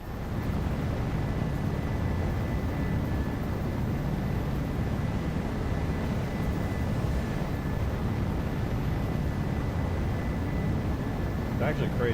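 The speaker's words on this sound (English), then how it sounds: "Halo themed jet." A Halo-themed jet flies in a modded Halo 3, giving off a dense, steady roar of broadband engine noise that stays loud and unbroken the whole time.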